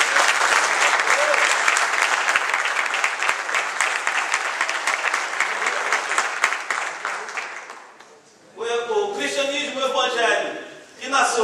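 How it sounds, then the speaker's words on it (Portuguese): A church congregation at an opening worship service applauds loudly and steadily for about eight seconds, then the clapping fades and someone speaks over a hall-like room. "Você pode aplaudir o Senhor Jesus."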